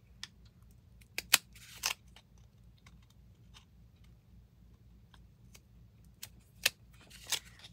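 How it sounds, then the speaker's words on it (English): Sparse, sharp snips of scissors cutting, irregularly spaced and close by, over a faint low hum. "Probably if I had my sharper, pointier scissors, this would be better."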